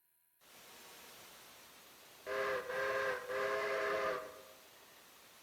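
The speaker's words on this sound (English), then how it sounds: "Whistle." A steam locomotive whistle in the train game Railroader gives three sustained blasts, the second and third longer, loud and close over steady background noise.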